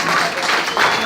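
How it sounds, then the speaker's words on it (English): Town hall audience breaks into applause, a short burst of clapping that swells toward the end with voices mixed in. "Give him a round of applause."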